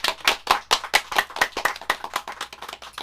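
An audience claps in a quick, steady, fairly close rhythm for an artist during an outdoor show, with each hand clap sharp and distinct and no voices present.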